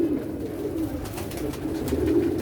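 Flying pigeons coo continuously at close range, a steady low rolling murmur with no gaps and no talking over it.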